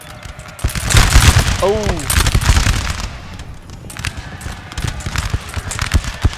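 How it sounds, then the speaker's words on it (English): Muskets fire in a massed volley in the Napoleon: Total War video game: a loud, crackling burst of overlapping gunshots that tails off into scattered battle noise, with a short exclamation from a voice. "Perfect timing on the volley."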